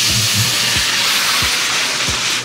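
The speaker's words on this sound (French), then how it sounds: "Fait que là, je vais venir le déglacer." Beef cheek glaze being deglazed in a hot pan, giving a loud, steady sizzling hiss of steam that fills the whole moment, with a few faint low thumps beneath it and no talk.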